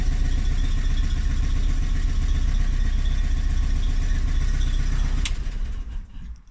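A small Invacar engine without its exhaust extension idles steadily with a constant low chugging rumble, close by, in a garage, then cuts out near the end with a brief click.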